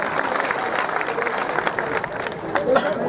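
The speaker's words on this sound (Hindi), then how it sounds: "आदरणीय महापौर जी, तालियां बजाकर महापौर जी का भी स्वागत करें" Crowd at a political rally in Burhanpur clapping to welcome the mayor, sustained busy applause mixed with crowd murmur and voices, fairly loud and steady throughout.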